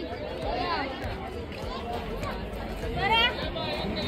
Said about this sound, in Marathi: तिकीट काउंटरची गर्दी बघा